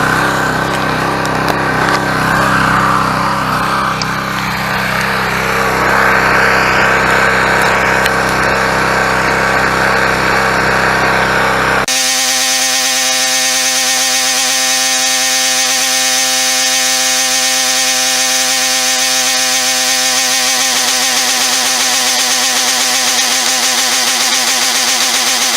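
A Coleman Powermate Pulse 1750 portable generator runs with its fuel supply shut off, a loud, close, steady engine drone whose tone shifts abruptly about halfway through into a harsher, buzzing note that carries on to the end.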